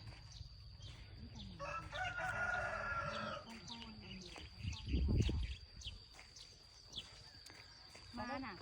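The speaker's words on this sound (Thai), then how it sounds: "เสียงไก่เสียงกาเนาะ" Roosters crow and chickens cluck around a village pond, one clear crow rising near the start with scattered clucks and a thump, under ongoing talk and a steady high tone.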